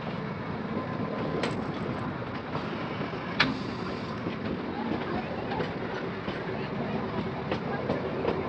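A Shimla toy train rolls along its rails through the Himalayan hills, giving a steady, close rumble of wheels with faint rhythmic clicks and sharp metallic ticks over continuous carriage noise.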